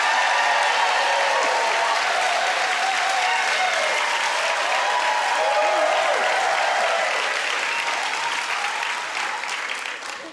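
A festival audience at the Perth Writers' Festival breaks into warm, sustained applause that fills the room, dense and steady before tapering toward the end.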